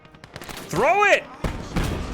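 Mortar fire in a war video game set in the Finnish conquest: a whistling, arcing shell tone rising and falling, followed by sharp explosive thuds, with a voice talking over the barrage.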